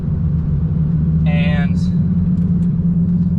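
A Lamborghini Gallardo engine drones low and steady from inside the car while driving, a constant rumble under a passing voice.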